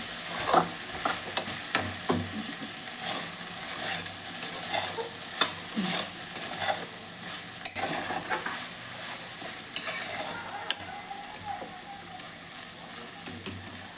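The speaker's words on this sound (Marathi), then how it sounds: "भेंडी आपण अशी परत परतून घेणार आहोत दोन मिनटं" Okra (bhindi) frying and stirred in a pan over a low flame, a steady sizzle broken by repeated scraping and clattering stirs, close and with no one speaking.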